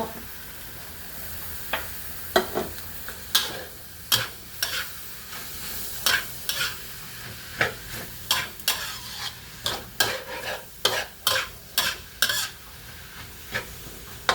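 Bamboo shoots stir-fried with pork in a pan: a steady sizzle under repeated sharp scraping and tossing strokes, about a dozen close, regular clacks of utensil on pan coming faster toward the end.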